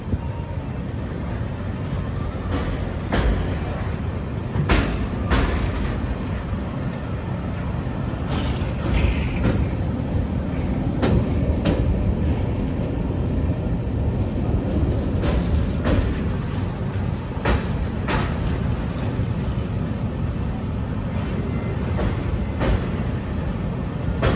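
A special passenger train runs on the Kasganj–Aishbagh line, crossing a bridge near Ramganga station: a steady, loud rumble of wheels and carriages with regular rail-joint clicks throughout, heard from on board with no voices.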